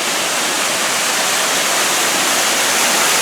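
Crabtree Falls waterfall roars as a dense, steady broadband rush of falling water, loud and close, with no change in level and no voices over it.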